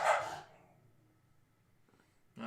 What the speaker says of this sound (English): No, sorry, it's just our dogs.